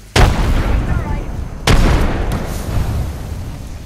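Two loud explosion blasts from a frag grenade in the battle royale game Apex Legends, the second about a second and a half after the first, each followed by a lingering rumble under game noise.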